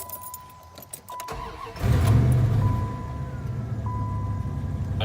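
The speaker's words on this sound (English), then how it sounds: "I had my foot on the gas there a little bit because I'm used to starting Leon's truck" A 1995 Dodge Ram 2500 V8 pickup truck cranks and fires up, a brief starter whir followed by a loud rising rev that settles into a steady idle, heard up close with a faint whine over it.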